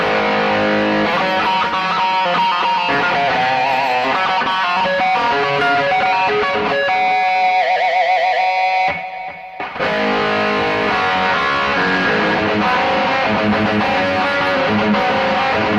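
Electric guitar playing through a BOSS eBand JS-10 with its reverb effect level set to 50, a dense distorted rock tone, continuous and loud with a brief dip near the end before resuming.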